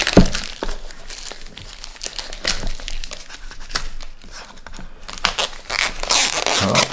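Plastic film being pulled off during an unboxing, with continuous close crinkling, crackling and tearing rustles that rise and fall throughout.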